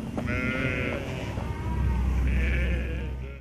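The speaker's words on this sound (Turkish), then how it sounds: "Arap koyunu olarak da adlandırılan ivesi cinsi koyunlar" Awassi sheep, also called Arab sheep, bleat loudly and close by in repeated drawn-out calls, with a low rumble underneath.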